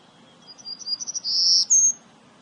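A golden-cheeked warbler sings a thin, high, buzzy phrase, a few quick notes rising into a drawn-out wheezy trill, clear against a quiet background.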